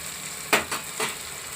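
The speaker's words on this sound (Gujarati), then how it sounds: "હવે આપણે પાણી નાખીશું." Water is poured into hot spiced oil in a pressure cooker for foxtail millet khichdi, setting off three short, sharp hissing bursts over a low background sizzle.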